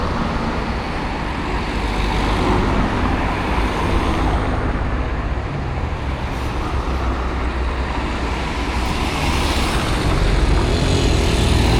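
Busy street traffic in Agadir, Morocco, a steady, loud wash of passing cars, trucks and buses rumbling by without pause.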